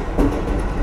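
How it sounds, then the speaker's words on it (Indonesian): Passenger train running slowly along a railway line, giving a low steady rumble with a faint bump of wheels on rail, close and brief. "pantas saja keretanya berjalan pelan ya"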